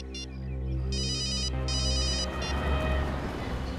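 A phone ringing with a repeating electronic ringtone in bursts over a low steady background hum, fairly loud and close, with no talking.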